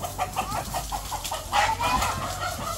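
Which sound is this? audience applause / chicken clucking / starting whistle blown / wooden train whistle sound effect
chicken clucking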